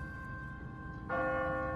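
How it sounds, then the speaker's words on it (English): A church bell in The Walking Dead video game, struck automatically on a timer, its sustained ringing tone swelling louder partway through over a low rumbling background. "What kind of church bell goes off at 20 past the hour?"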